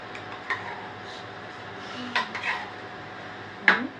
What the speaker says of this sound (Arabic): هنفضل بقى نقلب الخلطه كده لحد كلها ما تتناسق مع بعض.